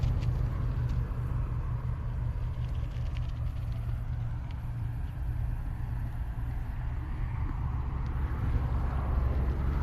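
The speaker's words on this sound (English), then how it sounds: "You can still hear the traffic, road noise, but it's not too bad." Road traffic heard from a dyke: a constant low rumble of distant cars, steady and unbroken, with faint higher hiss above it and no voices.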